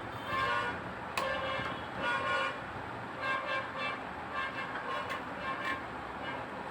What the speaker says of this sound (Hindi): थोड़ा सा हॉर्न बज रहा है।